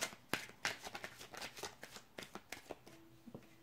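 Tarot cards are shuffled close up, a quick run of soft, papery riffles and taps in an irregular rhythm, with no voices.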